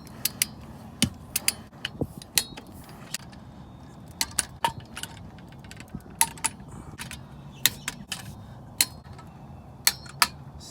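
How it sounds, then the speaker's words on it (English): A torque wrench tightens the front differential cover bolts on a 2004 Ford F-150 4.6L 4x4, giving sharp, close metallic clicks at irregular intervals over a quiet hum, with no talking. "now we'll grab a torque wrench and torque them down in a crisscross pattern"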